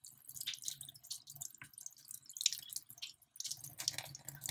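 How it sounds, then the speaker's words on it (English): Vegetables being rinsed under a running tap while preparing pickles, giving a quiet, irregular patter of water drips and splashes, close and soft, with no talk. "Then the next thing you want to do is you want to wash off your vegetable"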